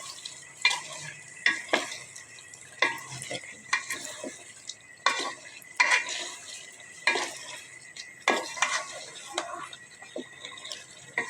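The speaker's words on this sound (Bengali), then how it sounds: "এখন আমি মুরগির মাংসগুলি দিয়ে দেবো। আমি সবগুলো মাংস দিয়ে দিলাম।" Chicken pieces fry with sautéed tomatoes in a pan for chicken bhuna, stirred in a steady series of close scraping strokes over a soft, continuous sizzle.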